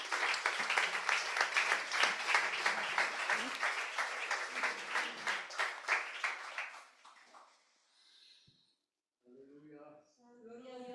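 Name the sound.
church congregation applause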